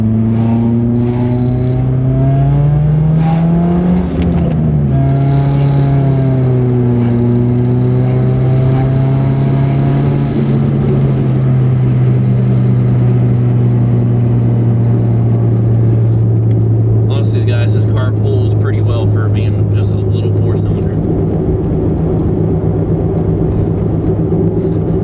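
A Nissan Sentra SE-R Spec-V being driven, its engine droning loud and close inside the cabin, pitch rising and falling through gear changes and acceleration, with a voice talking over the steady road rumble.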